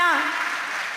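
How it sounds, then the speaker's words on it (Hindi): The audience at a Kavi Sammelan, a Hindi poetry gathering, breaks into applause. A dense wash of clapping follows the tail of a voice at the start and holds steady for about a second. "एक बार तालियां।"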